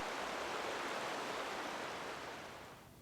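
River water flowing freely past ice in snowy weather below upstream dams, a steady broadband rushing wash that stays loud throughout and eases slightly toward the end, with no voices.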